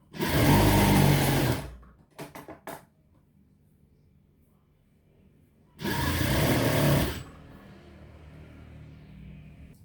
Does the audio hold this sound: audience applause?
no